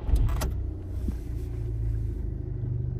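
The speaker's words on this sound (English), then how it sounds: "Let's just start the car." A car engine turns over with a brief clatter and settles into a low, steady idling rumble close by.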